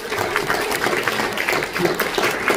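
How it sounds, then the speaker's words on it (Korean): An audience applauds at a foundation launch event, a dense, steady patter of many hands clapping that stays moderately loud with faint voices underneath. "박수 한번 내주시면 감사하겠습니다"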